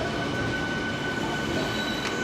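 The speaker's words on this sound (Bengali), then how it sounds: "ট্রেন দীঘা স্টেশনে ঢুকে গেল" Howrah–Digha local train pulling into Digha station, a continuous close rumble of carriages on the rails with a thin high wheel tone and brief squeal near the end.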